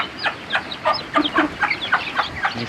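Chickens on a kampung chicken farm cluck in a steady series of short, repeated calls, close by and fairly clear, with a little farmyard background noise and no talk.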